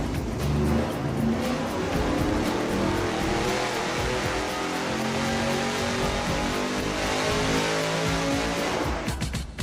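An engine on a dyno runs at wide-open throttle through Borla straight-through mufflers, a loud, continuous, raspy exhaust roar holding steady for nearly ten seconds with no talking.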